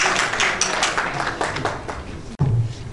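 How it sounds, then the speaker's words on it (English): Applause from a conference audience rises in a dense patter of hand claps, fairly loud and near, then cuts off abruptly before a brief low thump. "Please give a big round of applause, Mr. Muhammad Kodari."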